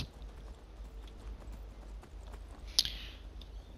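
Goats run in the Skyrim video game with soft, rapid clopping hoofbeats under a faint steady background hum, and one sharper click stands out near the end.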